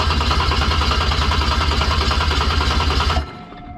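A Toyota 1JZ-GTE VVTi engine swapped into a Scion FR-S cranks over steadily on the starter during a compression test, a loud rhythmic chugging that runs continuously for about three seconds and then cuts off abruptly.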